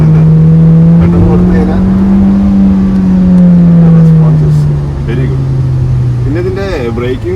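A Volkswagen Taigun GT with the 1.5 TSI petrol engine pulls hard under acceleration, its loud, close engine note rising steadily in pitch and then easing off, heard from inside the car.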